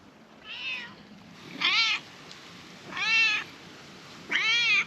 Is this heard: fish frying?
no